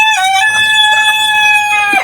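A single rooster crows at close range, one long, loud, drawn-out call from a farm flock of chickens.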